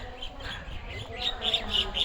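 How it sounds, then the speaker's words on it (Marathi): Small birds chirp in the evening at the Shri Swami Samarth Gurupeeth temple in Peruchi Wadi, a few faint, quick tweets rising over soft background hum in the second half. "आणि ते पक्ष्यांची किलबी आहे"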